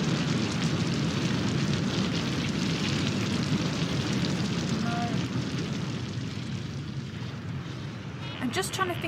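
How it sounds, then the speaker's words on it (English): Volcanic lava fire effect: a steady, loud broadband roar and rumble with crackling texture, continuous throughout, easing slightly near the end with a brief brighter crackle. "Volcanic lava fire."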